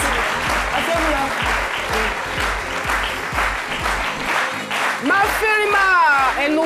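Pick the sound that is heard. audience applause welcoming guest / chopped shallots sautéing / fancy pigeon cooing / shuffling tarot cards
audience applause welcoming guest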